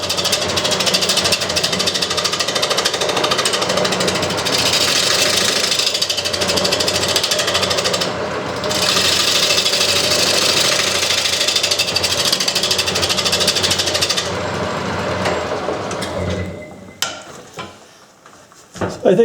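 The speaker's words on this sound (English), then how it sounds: "I tried the gouge first, but then I went to this heavy-duty scraper," A heavy-duty scraper cuts into an off-center wooden bowl spinning on a lathe, giving a steady rough scraping hiss that breaks off briefly, resumes, then fades as the lathe winds down.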